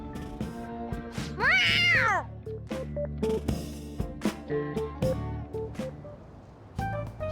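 A cat meows in the video game Persona 5 Royal, a clear, rising and falling cry near the start, set against game background music and effects.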